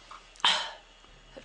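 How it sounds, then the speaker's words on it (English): A single sharp sneeze from someone with a ragweed allergy bursts out once, close and abrupt, then fades into quiet breathing. "I have to sneeze."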